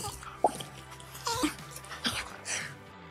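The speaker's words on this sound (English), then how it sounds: "This is my dog, Zoe." Small pet dog making brief snorting, wheezy breaths and soft whimpers close by, with short bursts separated by pauses and some faint background noise.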